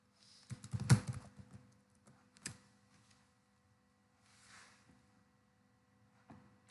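Keys on a computer keyboard click in short bursts, close and fairly quiet, with pauses of near-silence between the taps.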